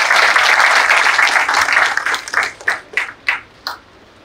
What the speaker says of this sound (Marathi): जोरदार टाळ्या वाजवायच्या यांच्यासाठी.